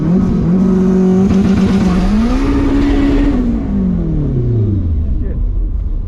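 A 400hp all-wheel-drive Honda revs up hard in first gear, pitch climbing then falling as it shifts, loud and close with a rough exhaust note.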